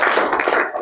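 Audience applause fills a seminar hall at a loan-industry talk, a dense, steady wash of many hands clapping close and fairly loud for under a second, with no voices over it.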